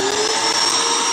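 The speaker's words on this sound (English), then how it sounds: "We are going to turn on our shop vac." A shop vac runs on a vacuum filter press setup, giving a steady, loud, high-pitched whine and rushing airflow throughout.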